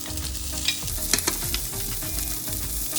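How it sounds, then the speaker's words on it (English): Sliced onion and zucchini sizzle steadily in an oiled pan, with a spatula scraping and tapping now and then as the vegetables are stir-fried, close up and without speech. "Add the sliced onion and stir fry it."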